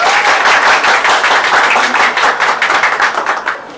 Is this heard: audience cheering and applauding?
yes